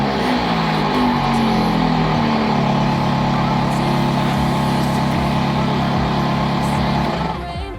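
A Vauxhall Corsa engine idles loud and steady with a blowing exhaust, a continuous droning rumble with a low hum that holds evenly before dropping away near the end.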